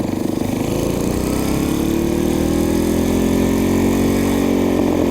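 A Briggs & Stratton 5HP minibike engine, stock rather than built, runs loudly and close, a steady buzzing drone that rises slightly in pitch as it revs.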